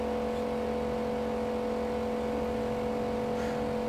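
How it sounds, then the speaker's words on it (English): A low amperage electric motor runs steadily with a constant hum and whine, holding an even level throughout and sounding fairly quiet. "So that is a low amperage motor"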